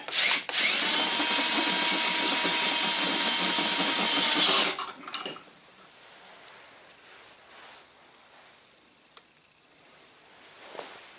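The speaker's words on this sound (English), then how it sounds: "maybe it's my drill bit" Power drill running a bit into a trailer pin, loud and steady for about five seconds, then stopping abruptly, followed by faint clicks and handling noises.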